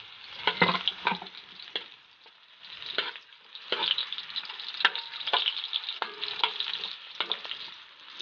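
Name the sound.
onion added to sizzling garlic in pan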